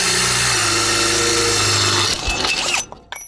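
Power drill whirring steadily at close range for about two seconds, then cutting off into clattering knocks as the bit falls out of the chuck.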